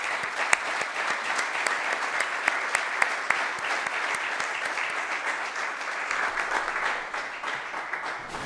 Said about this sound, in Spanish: después de ese aplauso